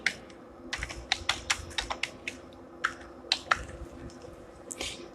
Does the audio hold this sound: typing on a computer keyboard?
yes